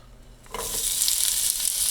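Peppers and onions hit a hot pan for chicken fajitas, a quiet start swelling into a steady, close, bright sizzle that continues without talk.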